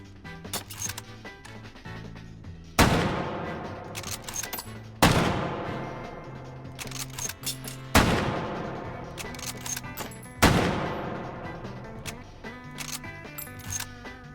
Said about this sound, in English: The Mosin Orbej pistol. They turned the Mosin Nagant into a pistol.